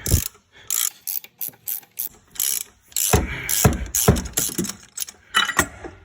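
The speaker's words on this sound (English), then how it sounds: "And you gotta pull this crank damper off here." Ratcheting tool clicks in rapid bursts as a rented puller works a Chevrolet crankshaft damper off the engine, close and loud, with metallic knocks and short pauses between strokes, no talking.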